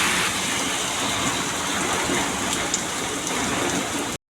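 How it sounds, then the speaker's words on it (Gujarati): Heavy rain pours down steadily around a roadside stall in Gujarat during Navratri, a dense, even hiss of downpour that stays loud and unbroken for about four seconds before cutting off abruptly. "તો તમે જુઓ વરસાદ જબર પડી ગયો"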